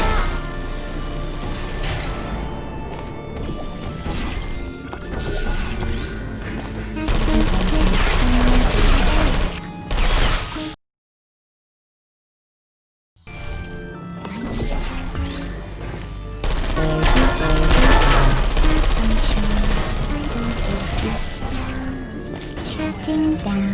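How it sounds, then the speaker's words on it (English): Turrets open fire in the Portal 2 game, dense bursts of rapid gunfire and crashing impacts sustained for long stretches, cut by a brief silence midway, loud and close. "This next test involves turrets."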